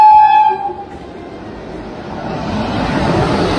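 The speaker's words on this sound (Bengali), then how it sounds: "এই হচ্ছে আমাদের কাটিয়ার এক্সপ্রেস।" Katihar Express train rolling along the track, opening with a loud horn blast that fades into a steady, building rumble of wheels and carriages close by.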